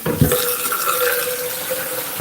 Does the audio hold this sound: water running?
yes